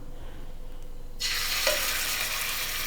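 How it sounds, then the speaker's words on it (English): Chicken breast sizzles loudly in hot olive oil in a pan, a steady crackling hiss that jumps up suddenly and holds, with no talking. "You can hear that sizzle on here."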